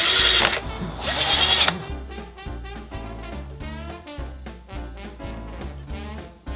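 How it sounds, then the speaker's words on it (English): Two short bursts of a cordless drill whirring during backyard chicken coop building, loud and close, followed by quieter tonal sounds. "This drill though."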